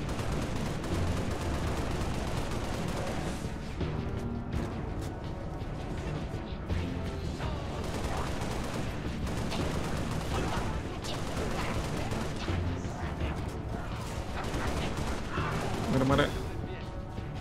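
Rapid bursts of gunfire crackle repeatedly amid a dense, chaotic din of shooting and impacts in the video game Halo: Reach, with a voice occasionally audible underneath.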